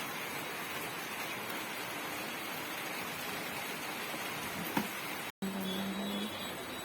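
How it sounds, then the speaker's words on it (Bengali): Rain falls as a steady, even hiss at moderate distance with no break, and no one talks. "আবার সেই বৃষ্টি হচ্ছে"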